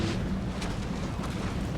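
Cannon fire on a Napoleon Total War battlefield, a deep rumbling boom with a muffled distant roll that fills the short moment, no voices over it.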